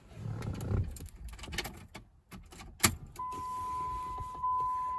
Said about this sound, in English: I'm going to go turn the ignition on